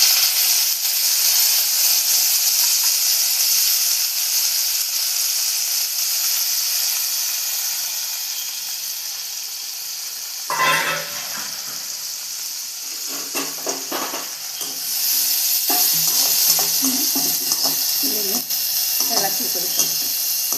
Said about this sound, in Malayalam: ഉപ്പ് തിരുമ്മി അത് എണ്ണയിലോട്ടിടാം.